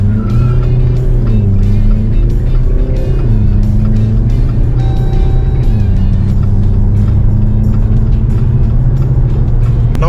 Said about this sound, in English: the run from 0 to 100 in the normal D mode coming up on your screens